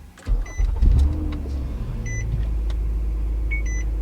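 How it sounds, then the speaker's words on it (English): A car fitted with a 12-inch rear-view mirror dash cam is switched on, giving a steady low engine hum with three short, clear electronic beeps spaced about a second and a half apart. "let's power on the vehicle"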